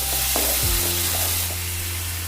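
Ginger garlic paste sautéing in a hot pan for a Tamil chicken varuval, a steady close sizzle with a few stirring scrapes and a low hum underneath, no talk.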